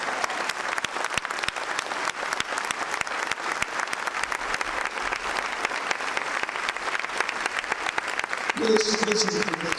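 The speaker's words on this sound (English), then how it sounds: "we are going to celebrate him with a thunderous clap offering to God Almighty" A church congregation at a tribute for Pa Ayo Adebanjo claps a long, steady thunderous offering to God, dense and continuous for the whole stretch, with a voice briefly rising over it near the end.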